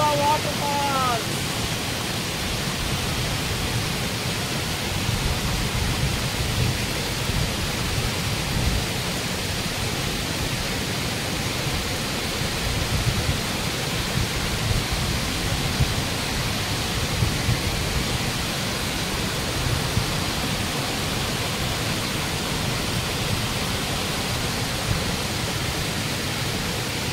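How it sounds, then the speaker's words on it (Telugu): The Ladda waterfalls roar as a steady, dense rush of falling water, loud and unbroken, heard close by with no pauses. "Ladda water falls."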